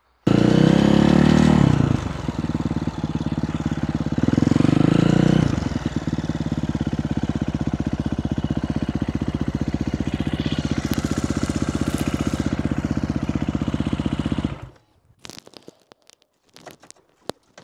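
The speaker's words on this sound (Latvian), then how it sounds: "Kā jūs redzat, šis ir motocikls. Netīrs motocikls, redzat, jā?" A dirty motorcycle's engine runs loud and steady close by, with heavier surges near the start and around four to five seconds, then cuts off abruptly, leaving a few faint clicks and knocks.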